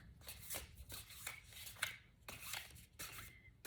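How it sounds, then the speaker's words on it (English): Oracle and tarot cards being shuffled by hand at close range: a series of quiet, crisp riffling bursts spaced roughly every half second, with no talking. "This is me shuffling."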